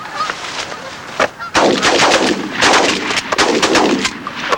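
Several shotgun blasts ring out in quick succession during a waterfowl hunt, sharp loud reports with honking geese or ducks mixed in around them.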